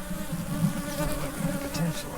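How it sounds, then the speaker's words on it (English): A crowd of honey bees hums during a hive inspection, a close, continuous buzzing drone that swells and dips slightly, with a few faint clicks from handling and no talking. "Man, so many bees, it's hard to get my knife in there."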